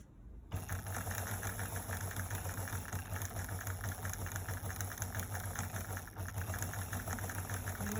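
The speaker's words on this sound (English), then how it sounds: "So let's say we bring our foot down. We'll do a wide stitch." A sewing machine starts up and runs a wide stitch, its motor humming with a steady rapid mechanical chatter close by. A brief pause comes partway through before the machine carries on.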